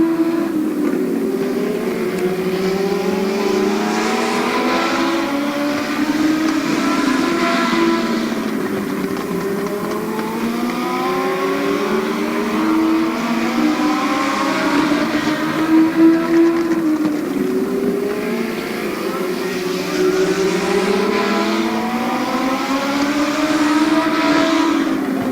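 Race cars lap a short raceway oval in a late-laps feature event, engines droning loud and continuous as the pack sweeps past again and again, pitch rising and falling in a repeating cycle, no talk.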